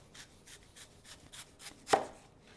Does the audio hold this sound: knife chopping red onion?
yes